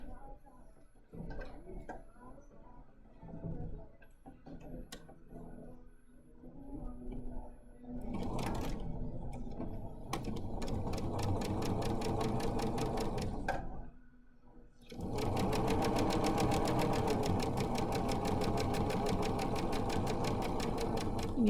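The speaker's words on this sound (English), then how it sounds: "remember to backstitch at the beginning and the end." A sewing machine stitches a fabric bookmark, running in short stop-start bursts of rapid mechanical whirring that build into longer steady runs with a brief pause, loud and close, with occasional talk between runs.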